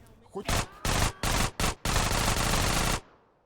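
Rapid bursts of automatic gunfire in GTA San Andreas crack out in several separate volleys, ending in one long sustained burst before cutting off.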